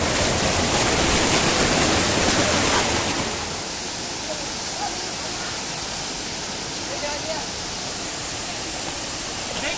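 A large waterfall roars as a steady, dense rush of falling water, louder for the first few seconds and then settling to a slightly softer, even wash.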